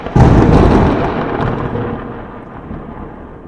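A loud thunder crack used as a sound effect, rumbling and slowly fading over a few seconds, alone with no talk.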